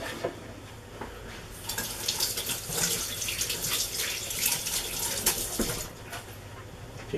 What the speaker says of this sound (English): Just washing my hands.